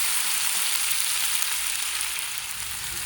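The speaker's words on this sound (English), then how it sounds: "So the tomatoes have been frying for about 3 to 4 minutes now" Tomatoes and onions sizzling and frying in a pan, a steady hiss that stays constant and fairly loud throughout, with no voices.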